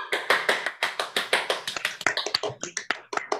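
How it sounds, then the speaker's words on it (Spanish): Classroom applause for a student's robotics project: a short round of brisk, fairly close hand claps in an uneven rhythm that thins out toward the end. "Un aplauso para Nayeli, por favor"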